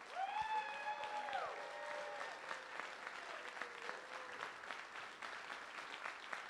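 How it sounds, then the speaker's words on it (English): An audience at a fundraising event applauds a sponsor with dense, sustained clapping that slowly thins out. A voice speaks over the first second or two near the start. "let's give you a round of applause."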